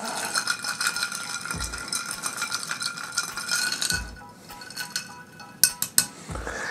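A spoon stirs a keto old fashioned drink in a glass, making quick rattling clinks that run for several seconds, then a pause and a few louder isolated taps against the glass.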